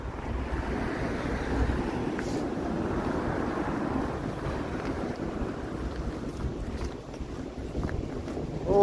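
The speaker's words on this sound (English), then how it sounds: "the wind is kicking up big time here" Strong gusty wind on a snowy Toronto street on a freezing evening, a dense low roar buffeting the microphone steadily throughout with no voices.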